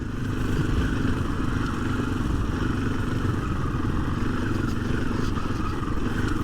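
A 2024 KTM 500 EXC-F dirt bike on stock ECU mapping and stock 14/48 gearing lugs along at about 10 mph in third gear on barely any throttle, a steady, close, low engine drone with faint mechanical clatter and no talking.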